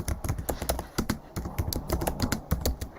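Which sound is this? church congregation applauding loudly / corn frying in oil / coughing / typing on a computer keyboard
typing on a computer keyboard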